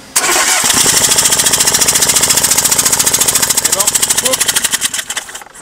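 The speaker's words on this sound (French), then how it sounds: "t'as la compression qui sort par le trou de cylindre" A Renault Twingo engine cranks and runs with its spark plug removed, compression escaping through the plug hole in loud, rapid staccato chuffing, rhythmic sharp pulses throughout, a voice briefly heard underneath.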